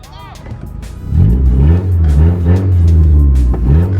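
A car is moved up a driveway at dusk during a wrap job, its engine giving a loud, close, low rumble that swells and holds steady, with a voice speaking over it.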